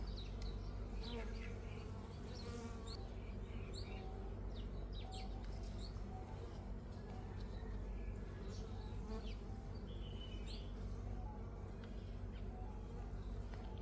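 Dense, steady buzzing of many honeybees working over a built-out hive frame holding honey, pollen and brood, a close continuous drone with a few faint bird chirps in the background.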